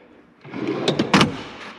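A drawer of a farm shop tool chest slides open with a short run of rattling, scraping clicks, fairly close and moderately loud against a quiet room.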